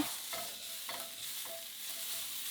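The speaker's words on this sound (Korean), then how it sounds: "오일 기름팬에 다진 마늘 먼저 볶아 향을 낸 후" Minced garlic stir-fries in an oiled pan, a soft steady sizzle broken by rhythmic spatula scrapes about every half second, close and fairly quiet.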